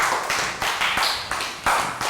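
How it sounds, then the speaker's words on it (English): A class of young pupils claps for a classmate during a movement lesson, a close, irregular burst of hand claps and taps with sharp attacks, fairly loud and continuous for a couple of seconds. "Round of applause for Dan."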